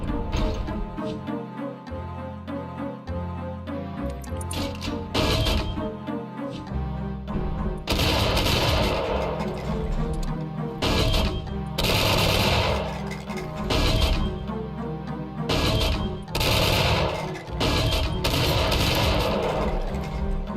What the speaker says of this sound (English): if I hold down the fire key, I rapid fire